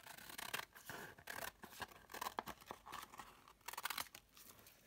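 Scissors snip repeatedly through hand-stained paper, cutting a strip away for a junk journal envelope, with a string of close, crisp cuts and crinkling paper handling and no talk.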